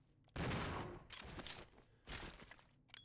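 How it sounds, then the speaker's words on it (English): Gunfire in the video game Resident Evil 0, a dense burst of rapid shots followed by a second volley after a short lull, loud and close with no talking. "Wait, you're only shooting when I'm shooting?"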